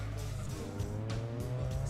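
A race car in Gran Turismo 2 pulls off the starting line with a steady droning engine note and rising harmonic tones, moderately quiet, with faint tire noise.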